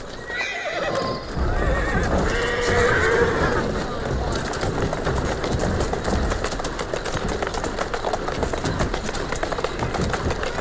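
A horse in the video game Assassin's Creed Syndicate whinnies loudly at the start, then steady clip-clopping hooves continue throughout, with some background game ambience.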